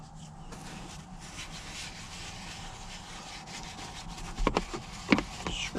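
A brush scrubs cleaner steadily into the surface of a 2020 Ford F-150 in a continuous close rubbing sound, growing a little louder and choppier near the end.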